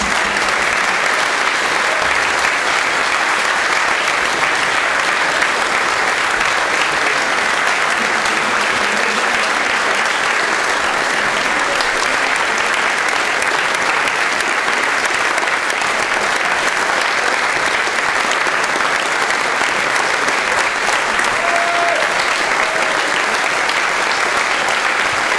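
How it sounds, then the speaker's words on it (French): A conference audience at a PHP event in Lyon applauds the volunteers, with dense, loud clapping sustained evenly for the whole stretch and no letup. "je voudrais franchement vous leur fassiez un énorme applaudissement"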